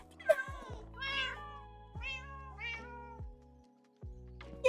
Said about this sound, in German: Oh nein, doch nicht Katzen.